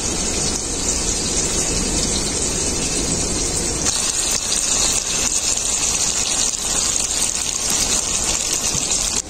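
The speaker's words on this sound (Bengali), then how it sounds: "থালার মধ্যে যে মশলাটা লেগেছিল সেই মশলাটা আমি জল দিয়ে দিয়ে দিচ্ছি।" Water poured onto a plate to rinse off leftover fish spice paste, a loud continuous gushing splash that holds steady for the whole stretch without pause.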